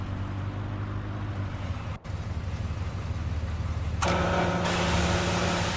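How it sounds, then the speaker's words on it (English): A tractor engine in Farming Simulator 2017 idles steadily, then a new louder, brighter engine tone kicks in partway through, close and continuous with no talk. "And start the engine."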